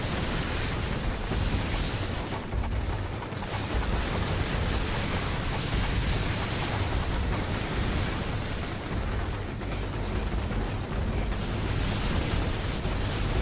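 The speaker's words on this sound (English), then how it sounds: "when in doubt, just lob grenades" Video game grenade explosions roar continuously, a dense wall of blasts and crackling debris merging into one sustained, loud, noisy rumble with no pauses or talk.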